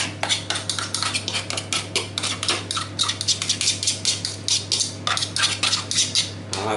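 A utensil clinks and scrapes repeatedly against a bowl as mashed bananas are worked into a gluten-free scone mix, quick rhythmic taps close up over a steady low hum.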